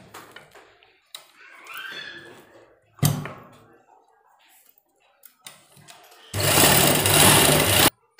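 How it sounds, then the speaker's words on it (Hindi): A sewing machine stitching a pocket onto a kurta, running in one loud, steady burst of about a second and a half after quieter handling sounds and brief clicks. "तो सबसे पहले हम इसमें सिलाई लगा लेते हैं।"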